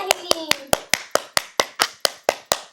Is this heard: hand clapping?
yes